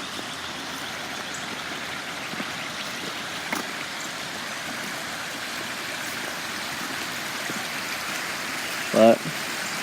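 Water runoff streams steadily along an outdoor channel, a continuous broadband wash with low rumble, close and fairly loud, with a brief clunk near the end.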